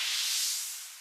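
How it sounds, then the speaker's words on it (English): A short, bright airy whoosh effect from a music track sweeps through, breathy and hiss-like, fading gently over about a second. "there's also this whoosh sound effect."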